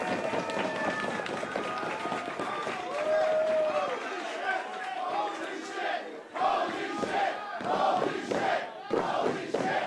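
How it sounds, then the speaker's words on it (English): A packed independent wrestling crowd cheers, howls and screams during a Halloween multi-man match, a loud sustained roar with sharp whooping peaks and bursts of shouting that swell and surge throughout. "This crowd is howling at the moon at this point"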